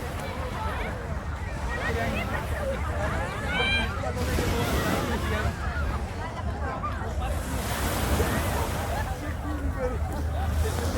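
Sea waves wash onto the beach at Burj Al Arab, a soft continuous surf hiss with gentle swells, while people talk and children call nearby over light wind.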